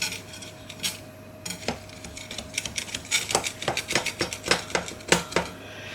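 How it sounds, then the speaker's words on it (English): A knife scrapes and taps around the inside edge of a metal cake tin holding a Victoria sponge, a quick run of close, bright metallic clicks and scrapes growing busier toward the end. "Just gonna go down the side with a knife just to make sure it's not sticking"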